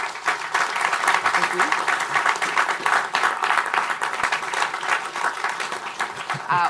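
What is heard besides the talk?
audience applause for the speaker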